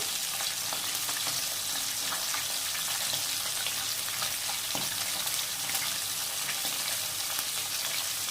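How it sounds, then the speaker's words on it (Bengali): Fresh live tilapia fries in hot oil with a steady, dense sizzle and crackle that stays even and unbroken throughout, close by and with no talking. "তো চলো মাছটা ভেজে নিই।"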